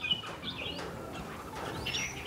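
Songbird from Gia Lai, kept as a caged decoy bird, chirping in short upward-sweeping calls a few times over steady background noise, fairly faint and close.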